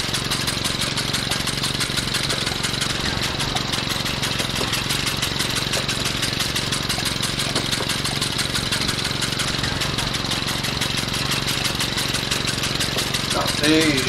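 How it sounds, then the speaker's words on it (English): Old lawn mower engine from 1958 running steadily on a farm on a wet day, a continuous mid-pitched idling drone held at constant loudness throughout, with faint voice-like sounds near the end. "Not the easiest of mowers to do this with"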